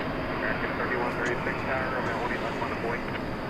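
Airplane taking off from runway 18 left at DFW Airport, a steady, dense roar of engine noise held at constant loudness for the few seconds, fairly near and without obvious rise or fall.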